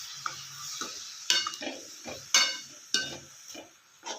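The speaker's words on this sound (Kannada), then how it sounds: "ಚೆನ್ನಾಗಿ ಮಿಕ್ಸ್ ಮಾಡ್ಕೊಳ್ಳೋಣ." Repeated scraping and clacking as a horse gram mixture is stirred in a pan after water is added, with a soft sizzle underneath; the strokes come in uneven bursts about half a second apart, close up.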